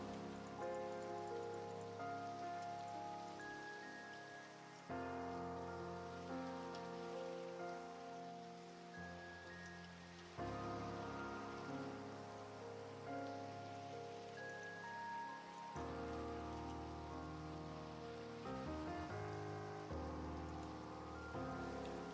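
Rain falls steadily in Minecraft, a continuous soft patter in repeating looped stretches, faint and even with no voices.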